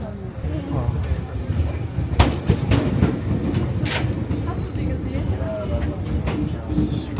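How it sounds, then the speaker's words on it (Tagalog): A JR train pulls into a station in Japan, its loud rumbling and clattering rolling steadily with a few brief squeals, while people talk nearby and a platform announcement drifts in. "And nandyan na yung train."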